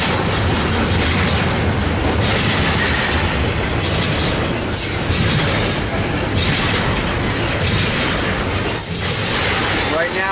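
A train passes at Commerce with a continuous loud broadband roar and rumble of rolling cars, close and sustained throughout.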